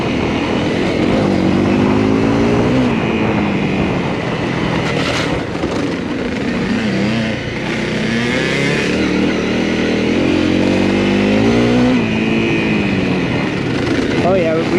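A Kawasaki KLX 140G dirt bike rides along a trail. Its engine drones close and loud for the whole stretch, with revs rising and falling, and voices talk over it.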